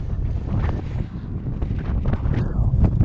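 Strong wind buffets the microphone at a wind farm, a loud rumbling roar of gusts that rises and falls without pause.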